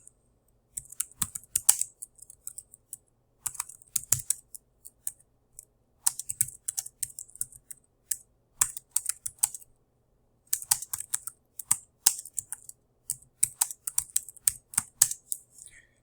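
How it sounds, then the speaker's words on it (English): Keys clatter in quick irregular bursts as a message is typed on a computer keyboard, with short pauses between runs of typing; close and clear, no voices. "you type in your message in the entry box here"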